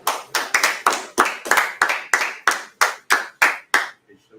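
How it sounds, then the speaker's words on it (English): A class clapping hands together in unison, about a dozen loud, evenly spaced claps close by in a steady rhythm, ending with a couple of faint taps. "let's go ahead and clap it up for the class"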